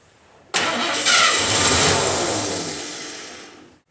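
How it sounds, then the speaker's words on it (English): Car engine cranks and fires with a sudden loud onset, settling almost at once into a steady, close idling roar that slowly fades before cutting off. "Okay, let's crank the engine."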